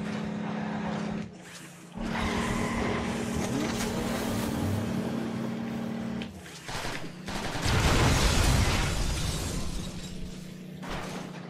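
A car driving in the video game Transformers Rise of the Dark Spark, a steady loud engine drone mixed with dense game effects and crashing noises, swelling toward the end.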